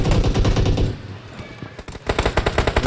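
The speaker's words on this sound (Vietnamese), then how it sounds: "Nổ súng ra rồi." Rapid bursts of automatic gunfire in PUBG Mobile crackle loudly, dip briefly, then return in a fast rhythmic volley of repeated shots.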